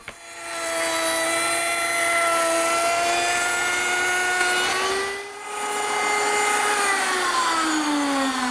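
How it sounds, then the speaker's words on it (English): Table-mounted router with a 1/4-inch slot cutter, fence and feather board cutting a groove along wooden stock, a loud, close, high whine that holds steady, dips briefly as the pitch shifts, then resumes. "I've set it up with a 1/4-inch slot cutter, a fence, and this feather board which holds the stock tightly down to the table"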